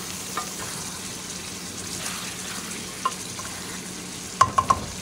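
Spice tempering fries in a pan while being stirred, giving a continuous soft sizzle with occasional scrapes and a quick cluster of sharp clinks of a spoon against the pan near the end.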